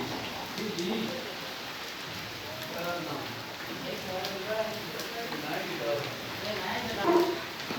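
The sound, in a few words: rain falling during work in a wood shop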